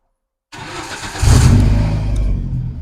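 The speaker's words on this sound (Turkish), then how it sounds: "şu anda çok stabil çalışıyor zaten aracımız. Hatta bir çalıştıralım." A Suzuki Samurai fitted with a TU5 engine starts up: a short crank catches at about half a second, then the engine revs and settles into a steady, loud, close idle with no talking.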